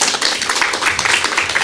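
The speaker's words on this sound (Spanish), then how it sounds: "recibámosla con un fuerte aplauso" Audience applause at a Spanish-language academic book presentation on pedagogical publications, a dense steady patter of many hands clapping close by, filling the short moment without pause.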